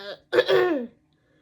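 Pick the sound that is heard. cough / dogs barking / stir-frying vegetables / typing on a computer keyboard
cough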